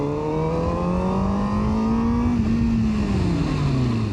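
A CF Moto Voom 500 motorcycle pulls away with a loud, steady engine drone that climbs in pitch as it accelerates, then drops back slightly, recorded close throughout.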